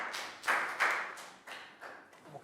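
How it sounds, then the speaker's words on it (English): Young children in a Year 3 maths class clap for a classmate, a short run of bursty group applause rising and falling in several waves, close and moderately loud in a small room. "Big round of applause for Nadia."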